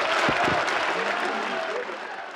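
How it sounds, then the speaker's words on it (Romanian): Crowd applause at a reconciliation between PNȚCD members and Jiu Valley miners, a dense, steady clapping that fills the clip with voices mixed in beneath it. "Reconcilierea dintre PNțCediști și mineri e aplaudată și însoțită de efuziuni."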